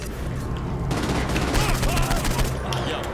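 Rapid gunfire in the Saints Row IV video game, a dense run of automatic shots that thickens into a loud, sustained volley, with game sounds layered underneath.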